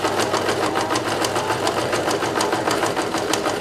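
A sewing machine stitches camo blanket fabric in a fast, steady, close-up run of rapid needle strokes, loud and continuous with no voices.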